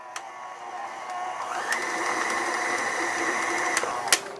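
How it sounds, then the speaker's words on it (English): A stand mixer on low speed folds chocolate chips into cookie dough, giving a steady close whirring motor hum that shifts pitch partway through, with a few light clinks. "I prefer to put them on low in the mixer, mix them up"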